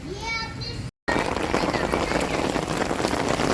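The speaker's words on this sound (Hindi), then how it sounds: "तेज़ बारिश हो रही है, तेज़ वाली बारिश, तेज़ वाली बारिश।" Heavy rain pours down in a village, a dense, loud hiss filling the space, with children's voices briefly heard before it.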